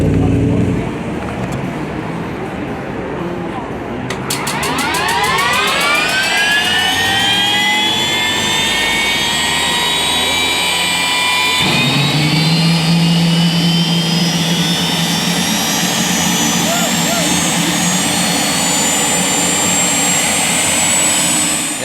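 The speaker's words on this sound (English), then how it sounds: "put this 400 horsepower helicopter turbine engine in it" A 400 horsepower helicopter turbine engine fitted in a Triumph motorcycle spools up with a loud rising whine that climbs steadily and holds a high roaring scream, joined by a deeper rumble partway through, loud and close throughout.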